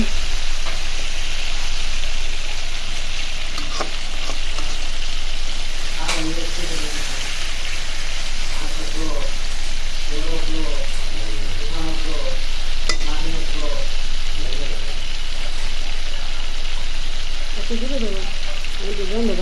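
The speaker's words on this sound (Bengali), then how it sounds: "তো এই যে দেখুন কষানো হয়ে গেছে প্রায় আর একটু কষাবো" Hilsa fish being sautéed (kosha) in spices gives a loud, continuous, rain-like sizzle with stirring scrapes, while a voice talks over it now and then.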